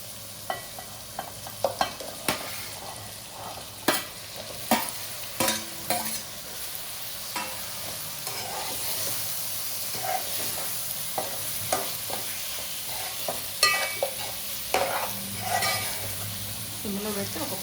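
Chicken frying in oil in a pan, a continuous soft sizzle with repeated clinks and scrapes of stirring against the pot throughout, fairly close and moderately quiet.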